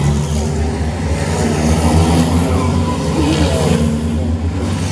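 Racing trucks accelerate off the start of a truck Grand Prix race at the Charade circuit, a loud, continuous roar of heavy engines building steadily throughout without a break.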